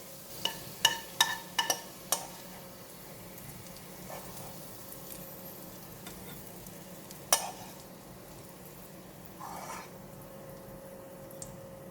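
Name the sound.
garlic frying in oil in a pan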